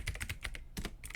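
Quick bursts of clicking keystrokes on a computer keyboard, soft and close, clatter irregularly while a Windows command is entered.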